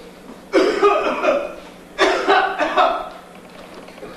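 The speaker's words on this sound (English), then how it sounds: "Pardon the cough, sir." Two short, harsh stage-play cough bursts about a second and a half apart, close by, each breaking into a few rough, rattling pulses.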